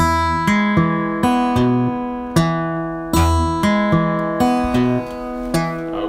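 Acoustic guitar played fingerstyle in a Travis picking pattern, an alternating thumb bass under plucked treble notes in a steady, even rhythm, close and clear with ringing strings and no talk.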